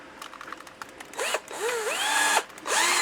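A power drill whines up to speed in short bursts, then runs steadily with a rising and falling motor pitch, close by, drilling a hole in an RC car's roof.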